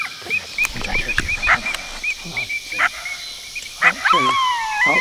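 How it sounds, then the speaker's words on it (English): Sharp yips and barks come from a coyote hunt at sunset, with several bursts scattered through the stretch and a rising howl near the end. People talk over them. "Is that another coyote? I heard you."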